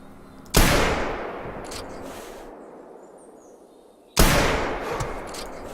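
Two loud, sharp rifle shots fired at a moose in a hunting video game, each a sudden crack followed by a long rolling echo that fades over several seconds, with a quiet pause between them.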